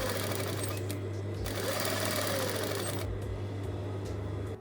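Domestic sewing machine running steadily as it stitches around the edge of a thrifted garment's fabric, a continuous close mechanical whir with brief pauses and restarts.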